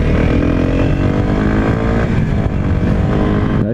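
A 2019 Kawasaki Z125 motorcycle rides on an icy road, its small engine droning loud and close with rising pitch as it accelerates through the gears, plus wind buffeting, ending with a brief dip.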